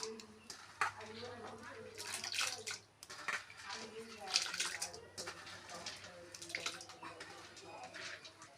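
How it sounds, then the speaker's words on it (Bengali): Lentils for Manipuri dal go into water heating in a kadai: soft, faint splashing and pouring with small drips and sloshes, and a voice talks over the sounds at intervals. "আমি কড়াইতে এখানে জল বসিয়ে দিয়েছি ডাল রান্না করার জন্য। আমি ডালটা দিয়ে দেবো।"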